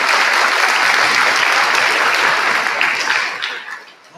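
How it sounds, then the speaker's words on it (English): Graduating junior high class at a promotion ceremony giving themselves a round of applause, loud dense clapping that fills the hall and fades out toward the end. "Give yourself a round of applause"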